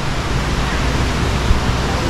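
Gitgit Waterfall in northern Bali roars as a steady, dense, loud rush of falling water, unbroken and filling the air without voices.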